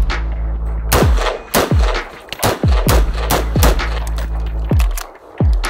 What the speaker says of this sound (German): Ich schieß mal kurz im Vergleich mal meine